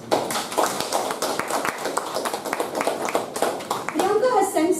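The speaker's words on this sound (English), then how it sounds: "we deserve a huge round of applause" An audience at a Toastmasters meeting gives a round of applause: dense, continuous clapping from many hands at moderate level, with a voice rising over it near the end.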